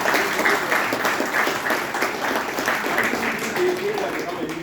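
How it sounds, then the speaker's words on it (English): An audience at a speaking-club meeting gives a sustained round of applause, even and continuous clapping from a room of people, with some voices faintly underneath. "Please give them a big round of applause."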